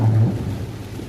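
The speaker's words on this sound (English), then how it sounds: "Raindrops are falling on my windshield." Heavy rain drums on a car windshield from inside the vehicle, a dense, steady wash of close patter lasting about a second, with no voices.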